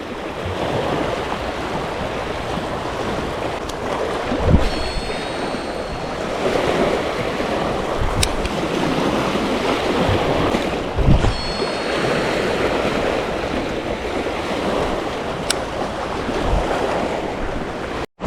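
Wind gusts over the sea during light drum-reel casting, a steady rushing roar mixed with surf and microphone buffeting, broken by a few brief thumps and faint whirring of line, with no talking.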